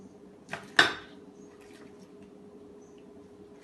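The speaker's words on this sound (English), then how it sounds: "I'm going to scoop the seeds from the cantaloupe using the spoon." A metal spoon scooping seeds from a cantaloupe makes two close, sharp scraping clicks in quick succession, then a quiet pause and one more faint tap at the end.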